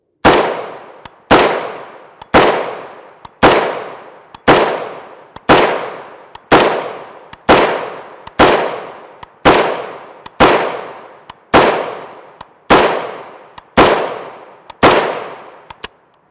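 M92 PAP short-barreled rifle firing 7.62x39mm rounds, about fifteen loud, sharp shots evenly spaced roughly a second apart, each ringing off with a short decay, with no talk.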